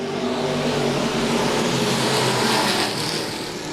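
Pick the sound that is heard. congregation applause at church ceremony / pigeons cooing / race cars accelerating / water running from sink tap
race cars accelerating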